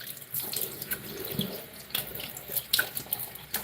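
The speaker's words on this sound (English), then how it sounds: "I'm going to wash my face" Tap water runs steadily into a sink while someone washes their face, with splashing and brief bursts over a continuous near flow.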